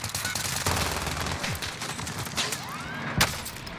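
Rapid video-game gunfire rattles in steady bursts, with a louder shot near the end, over a busy background of game effects.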